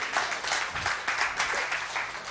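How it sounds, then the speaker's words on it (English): A church congregation gives a steady burst of hand clapping for the Lord during worship, dense and continuous with rhythmic pulses, with no voices on top. "we can give the Lord a hand clap"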